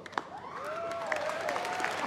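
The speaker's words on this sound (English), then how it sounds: "Can you hear the applause?" Applause from a crowd at an awards ceremony, the 2014 Attitude Awards, heard faintly and steadily in the background while a tone sweeps through the sound.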